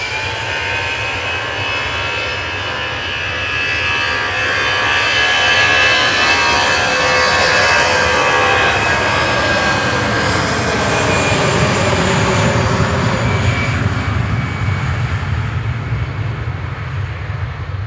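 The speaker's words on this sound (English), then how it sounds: "Next to go is EasyJet GEZ WX to Belfast with flight 701." An EasyJet airliner departs Manchester Airport for Belfast, its loud engine roar swelling and sustained for many seconds with shifting tonal whines as it passes, and no talking.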